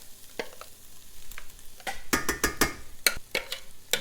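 Meat for lasagna fries lightly in a pan, a soft, close sizzle broken by several crisp scraping stirs that grow busier toward the end, with no voices.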